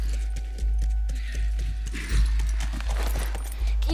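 Horse hooves clip-clop steadily in The Last of Us video game, a run of close, regular hoofbeats repeating over about four seconds alongside a low constant drone.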